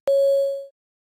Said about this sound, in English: Listen and repeat after the beep sound.